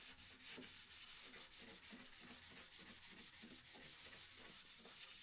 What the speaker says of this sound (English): Now quick hand sand over just to get them rough bits off.